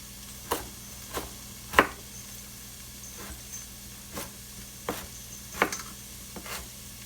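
A knife chops vegetables on a cutting board for chicken noodle soup: a loose, irregular series of sharp single taps with short pauses between them, close and fairly quiet, with no talking.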